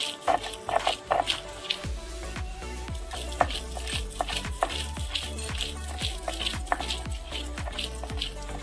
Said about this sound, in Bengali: ঠান্ডা করে এবার আমি এগুলো শিলে বেটে নেব।